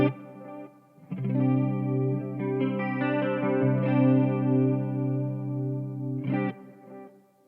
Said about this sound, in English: Let's put some reverb in there. We'll put some chorus in there